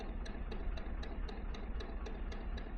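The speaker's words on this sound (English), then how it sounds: "Just don't appreciate just how noisy the engine is" A narrowboat engine ticks over at slow canal cruising speed after Reading Lock, a quiet, steady low rumble with a faint regular knock repeating about three times a second.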